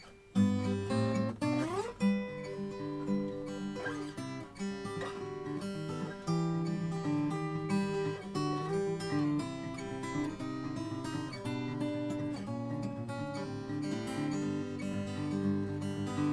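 Fingerpicked acoustic guitar plays a steady, ringing pattern of plucked notes and chords, fairly quiet and without singing.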